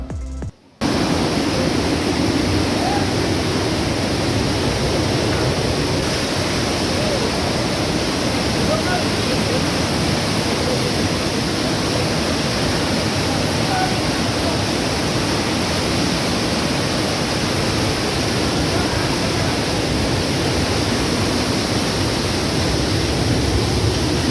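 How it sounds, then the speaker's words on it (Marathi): Water rushes through a narrow mountain pass, making a loud, constant roar of broadband noise that holds steady and close for the whole stretch, with no voices heard. "पण जसं आपण समोर जात होतो तसा पाण्याचा प्रवाह अजूनच वाढत होता"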